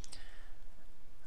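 A couple of quick computer mouse clicks at the very start, sharp and close, followed by quiet room tone.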